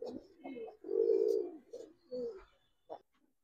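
Pigeons coo close by in short throaty bursts, one long rolling coo in the middle followed by a few briefer calls, with no one talking.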